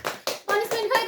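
A few loud, close hand claps in short bursts, mixed with a voice and chatter among friends at home.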